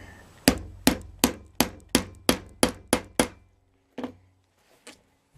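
A hammer strikes a rivet setter resting on an anvil while setting a rivet in leather moccasin work: nine sharp, evenly spaced metallic taps close by, then a pause and two softer knocks.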